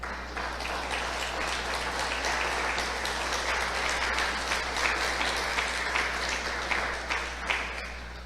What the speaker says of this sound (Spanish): vamos a darle un aplauso al Señor por eso